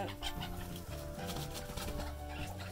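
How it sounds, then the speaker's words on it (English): Backyard chickens cluck in a steady, busy run of short notes at moderate distance, set against steady background noise near a rabbit enclosure. "Chicken attack."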